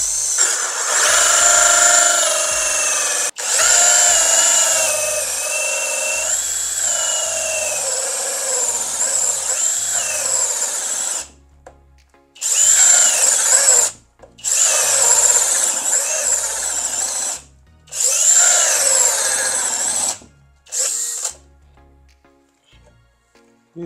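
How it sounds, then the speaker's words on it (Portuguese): A FortG brushless drill driver bores a hole with a high whirring motor: one long continuous run at first, then several short, separated bursts with brief pauses between them. "Eu vou fazer um furo nesse local."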